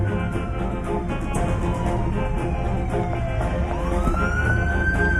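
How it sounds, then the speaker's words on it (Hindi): An ambulance siren wails as it passes, a loud sweeping tone rising and falling over a continuous traffic rumble, with no talking. "पुलिस नहीं है, एम्बुलेंस जा रही है।"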